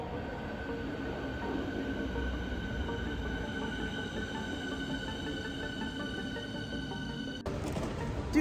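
Steady rumble of a German S-Bahn commuter train in motion, with a constant low drone and faint wheel hum, heard from inside the carriage.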